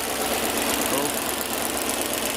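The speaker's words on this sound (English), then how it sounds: "The LPG system's running now, as you can hear." Audi A8 with a 3.7 engine running on LPG after a gas conversion, idling steadily with a dense, even rumble and no pauses throughout, with no talking.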